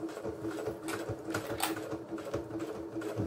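Sewing machine stitching a seam through thick fabric for a lined zippered pouch, a steady close mechanical whir with a rapid rhythmic needle chatter throughout and no speech.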